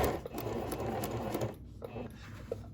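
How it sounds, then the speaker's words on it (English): A Pfaff sewing machine runs a rapid whirring burst while stitching down one side of a buttonhole, then stops, leaving light handling clicks and a faint voice. "stitch down the one side until I get to my mark"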